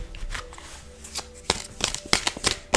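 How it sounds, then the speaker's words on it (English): Stiff tarot cards are shuffled close by in a series of quick, papery riffles and snaps, irregular and uneven, with no talking. "That was a strange, stuck feeling shuffle."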